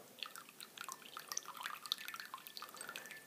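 Brewed Japanese Kukicha green tea is poured, making a steady, close trickle of liquid with many small splashing drips for several seconds.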